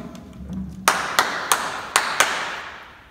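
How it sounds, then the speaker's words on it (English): A group of students claps a samba rhythm in unison, five sharp, fairly loud claps in an uneven pattern after a moment of quiet room noise. "Can you clap for me?"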